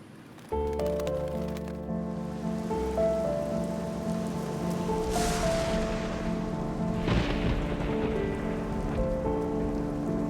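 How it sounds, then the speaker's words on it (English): Steady rain falls over a city, a dense continuous hiss that begins abruptly and carries on without a break. A low sustained musical drone sits underneath, with no talking. "It rains, sometimes too much."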